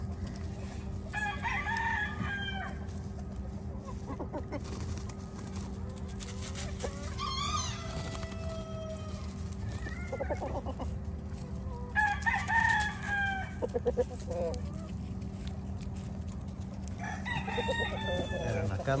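Hens cluck in scattered bursts while a rooster crows, with a voice occasionally talking nearby over a steady background hum.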